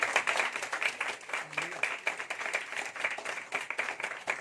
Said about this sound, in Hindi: ताली उनके लिए बजाइए